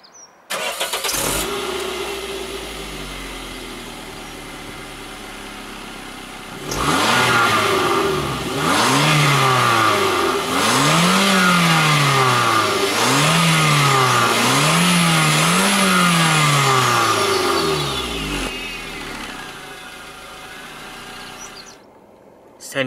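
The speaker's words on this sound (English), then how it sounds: "You can hear the sound of that naturally aspirated 4-cylinder petrol engine." A 2005 Toyota Yaris 1.3 VVT-i naturally aspirated four-cylinder petrol engine idles, then revs several times in rising and falling bursts before settling back to idle.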